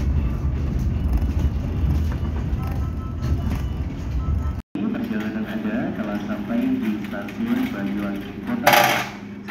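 Inside the Mutiara Timur business-class passenger train on the Surabaya to Banyuwangi run, a steady low rumble of the carriage rolls on under a speaking voice, broken by a brief dropout and a short hissing burst near the end.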